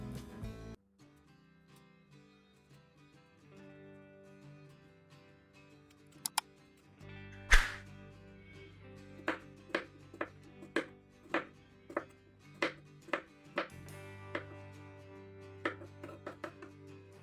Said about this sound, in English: I cut the pumpkin into small, bite-sized pieces and kept them aside on a plate.